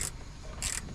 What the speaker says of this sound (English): hold it straight while I ratchet it off